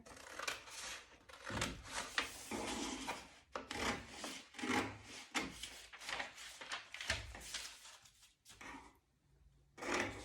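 Scissors cut through folded pajama-pant fabric at the waistline in close, quiet snips and rasping scrapes, an uneven series of strokes with brief pauses.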